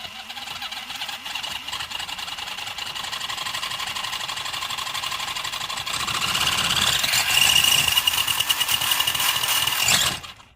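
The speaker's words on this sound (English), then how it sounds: "Watch these rear wheels and motor and everything when I start giving it a little bit of throttle" A Tamiya Monster Beetle RC car fitted with a 40 amp ESC spins its electric motor and rear wheels under throttle, a steady whirring whine that rises in pitch and loudness partway through, then cuts off abruptly.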